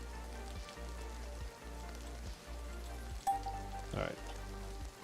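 Steady rain falls across a video game scene, a constant even patter with a brief brighter splash near the end, no voices over it.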